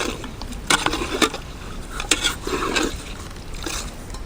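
A ladle stirring duck curry thickening with coconut milk in a metal pot in a Kerala kitchen, giving a run of scraping, clinking strokes at an irregular rhythm, close and fairly soft, with no voices.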